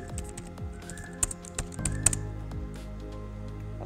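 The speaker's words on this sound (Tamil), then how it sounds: "ஸோ இப்போ நீங்கள் டைப் பண்ணிட்டு போகும்போது" Keys clatter on a computer keyboard in an irregular run of quiet taps with a few sharper strokes, close up and with no talk.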